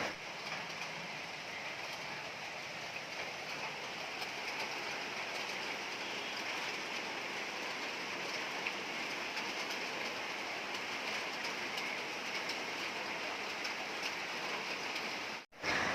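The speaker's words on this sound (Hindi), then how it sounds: "अभी तो बारिश हो रही है, मतलब कितनी आधा घंटा हो गया बारिश होते होते।" Steady rain falling outside, a dense continuous hiss and patter at even loudness for the whole stretch, with no talking.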